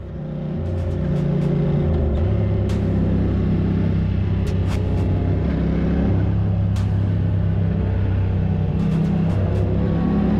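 A car on a canyon trail road near San Diego passes motorcycle riders, its steady engine rumble sustained and loud throughout against the idling bikes, with no talk.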